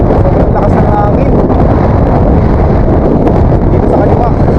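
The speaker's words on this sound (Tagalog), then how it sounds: "Sobrang lakas ng hangin" Strong, steady wind buffets the microphone, a constant low roaring rush that fills the whole stretch without pause.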